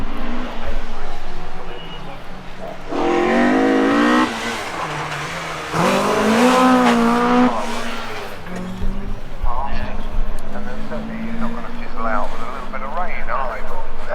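Rally cars racing downhill at Cadwell Park, engines revving hard and rising in pitch as they pass close by, with tyre noise and a crowd of voices chatting throughout.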